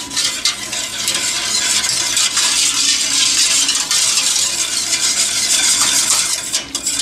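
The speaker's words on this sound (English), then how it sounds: "Stir that up." Sugar being stirred in a dry pan on the stove, the first step of a goat milk custard for ice cream, giving a steady close scraping and grainy rustle that runs continuously without a break.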